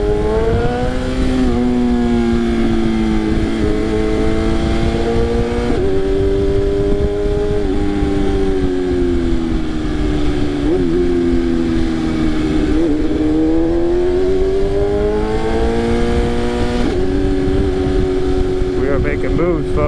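A BMW S1000RR sport motorcycle with a torque tune accelerates hard through the gears, engine pitch climbing and dropping at each shift, loud and close, with occasional talk beneath.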